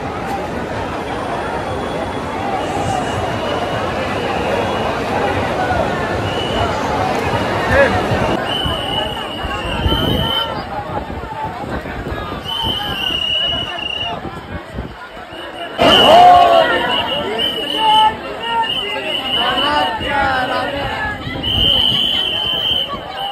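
Packed crowd of devotees at Lalbaug Ganpati, Mumbai, producing a steady din of overlapping voices, footsteps and jostling, with a few sharp knocks and occasional whistles rising above the hubbub.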